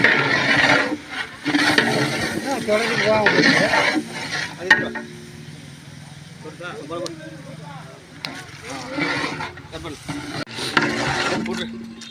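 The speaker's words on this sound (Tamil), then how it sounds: "வெங்காயம் போட்டு நல்லா கிளறி விட்டு கொஞ்சம் பச்சை மிளகா போட்டு அதுக்கப்புறம் கொஞ்சம் கிளறி விட்டுக்கலாம்" Onions and green chillies frying in a large pot for a 50 kg chicken biryani, stirred with a ladle, giving a steady sizzle under repeated scraping and rubbing strokes, close and fairly loud throughout.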